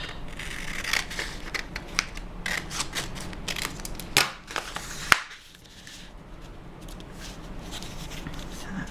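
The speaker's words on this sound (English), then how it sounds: "I'll just cut a little bit of this side off." Scissors cutting a strip off a sheet of bordered wallpaper for craft use, making a series of close crisp snips and paper rustles, ending in a sharp final cut followed by quieter handling.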